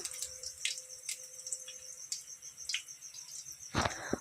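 Thin battered eggplant slices frying in hot oil over a medium gas flame make quiet, scattered crackles and sharp little pops, with soft sizzling between them.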